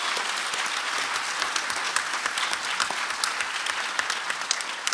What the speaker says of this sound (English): let's all just give these guys a big round of applause for 3 seasons of awesome Transformers